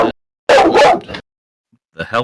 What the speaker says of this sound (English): that's the dog that's someone's at the door